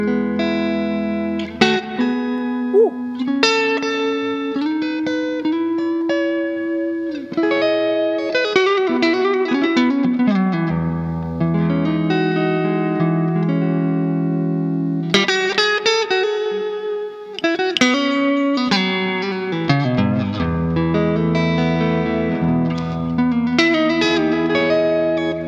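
A Fena Telecaster electric guitar rings out with heavy reverb, playing a continuous run of notes and chords for the whole stretch, loud and alone with no voices.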